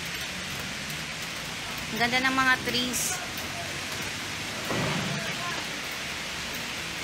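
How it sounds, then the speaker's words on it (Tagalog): Steady rain falls outdoors near Burnham Park in Baguio City, a constant hiss of drops on wet ground around someone walking, with a person speaking briefly over it. "Medyo wet dito kasi umuulan, kaya maingat ako maglakad."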